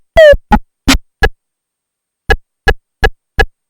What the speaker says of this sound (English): And here's a quick scan of the setting 2 drum sounds.